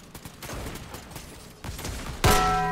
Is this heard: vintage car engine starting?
no